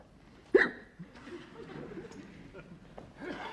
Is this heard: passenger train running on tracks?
no